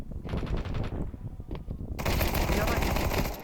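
Gunfire in the video game Counter-Strike 2: bursts of rapid automatic shots give way to a loud, continuous rattling spray of fire, with players' voices talking underneath.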